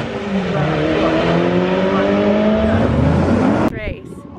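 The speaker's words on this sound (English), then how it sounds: "They saw the car launching" A race car launches hard at Irwindale Speedway, its engine revving loudly with rising pitch for several seconds before cutting off abruptly, after which a brief chirping whine fades out.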